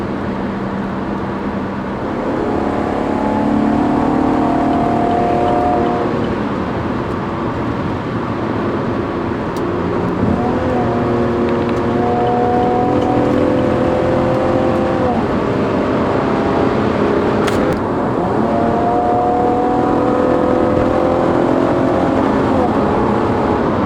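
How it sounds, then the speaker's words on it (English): A 2012 Chevrolet Camaro 2LT engine and exhaust drones steadily at low RPM during highway cruising, a continuous close rumble with gentle rises in pitch as it pulls, under faint background noise. "Even the exhaust note when you're going low RPMs driving on the highway sounds beautiful."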